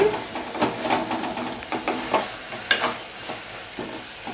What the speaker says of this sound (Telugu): అల్లం వెల్లుల్లి పేస్ట్ 1 స్పూన్ వరకు వేసుకొని బాగా కలుపుకోవాలి